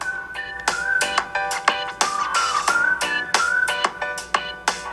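An LG G4 phone's single mono speaker plays music with a steady melodic tone and rhythmic percussive hits, clear and fairly full for a small speaker, with no talking over it.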